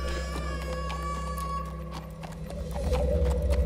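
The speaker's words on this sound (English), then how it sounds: "Why is it a horse?" A horse's hooves clip-clop steadily over a constant low rumble in The Walking Dead: The Final Season video game, with a whinny rising near the end.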